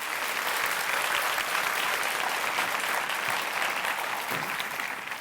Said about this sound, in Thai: ปรบมือให้คุณพ่อหน่อย